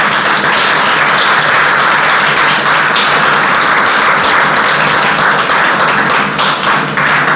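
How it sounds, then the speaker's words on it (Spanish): An audience at a writers' association session breaks into sustained, dense applause, loud and close, with many hands clapping steadily and no speech over it. "Pues un aplauso, por favor."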